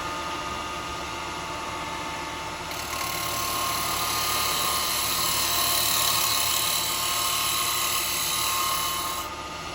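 Wood spinning on a lathe while a carbide tool cuts it, giving a continuous rough whirring rasp that grows louder and steadier midway and then eases off; no speech.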